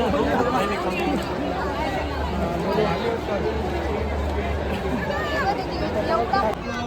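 A large crowd chatters at Dashashwamedh Ghat in Prayagraj, a dense, steady babble of many overlapping voices with footsteps and movement mixed in throughout.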